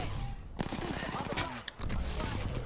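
Rapid gunfire in the video game Apex Legends during a ranked arenas match: dense, continuous automatic bursts, loud and close, with a voice talking over the shots.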